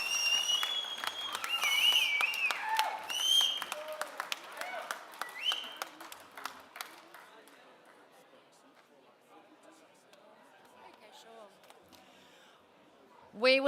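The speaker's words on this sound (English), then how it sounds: "Let's give them a big collective round of applause as the winners make their way up here" Applause from an outdoor crowd at the Tatts Finke Desert Race 2025 presentation, greeting the race winners as they come up; steady clapping with scattered chatter fades over several seconds, with a sharp burst at the end.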